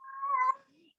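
A cat lets out a single clear meow lasting about half a second, tapering into a faint low trailing sound, with nothing else around it.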